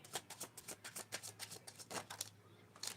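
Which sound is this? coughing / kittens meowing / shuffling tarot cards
shuffling tarot cards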